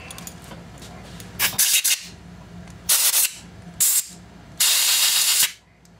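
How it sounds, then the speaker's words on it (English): Compressed air blasts onto a part from a Yamaha 9.9 outboard motor in four hissing bursts, the last one longest, each loud and close over a low steady background hum. "so we get some compressed air"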